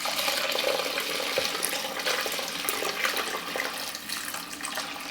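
Water pours steadily into a pot of rice with salt and olive oil, a continuous splashing, trickling rush close by that runs for several seconds with no talk.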